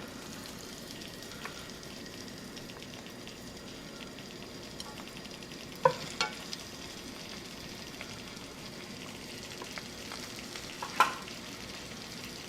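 A pan of lemon pepper spaghetti pasta simmers quietly, with a soft, steady sizzle and a few faint clinks of utensils, no voices.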